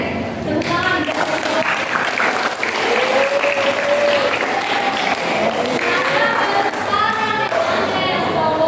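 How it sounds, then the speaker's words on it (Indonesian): An audience at a student Islamic studies presentation on hadith claps loudly and steadily, with voices and cheers rising over the applause throughout. "Tepuk tangan"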